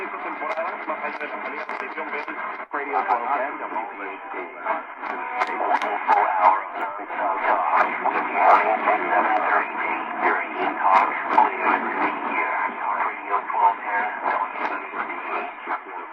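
Faint, crackly AM radio reception of WPHD Philadelphia on a Sangean SR-35 at night, a voice fading in and out through static and hiss, narrow and tinny.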